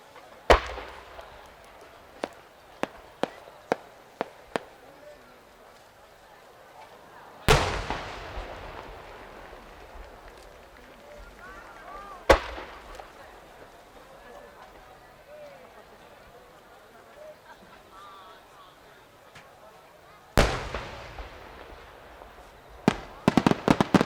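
Large 10-go aerial firework shells from Yamazaki Enka at the Omagari fireworks festival, 2016, with several sharp crackling pops early on, then three big booming bursts, each trailing off into a long rumbling decay, with crowd noise between.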